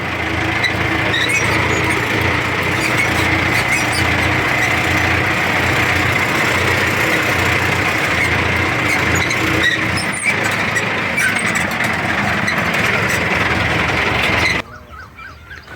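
A Mahindra Arjun 605 tractor engine runs on a farm during sugarcane planting after the wheat harvest, giving a loud, steady, close drone that continues without pause and drops away just before the end.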